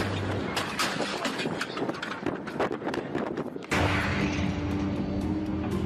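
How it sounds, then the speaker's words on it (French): Shock wave from an exploding meteor of about twenty metres bursting in the air, heard as a dense run of rumbling, crackling blasts followed by a sudden louder boom and sustained roar. "Une explosion de 30 fois la puissance de la bombe atomique d'Hiroshima l'a fait soudain voler en éclats à 5000 mètres d'altitude."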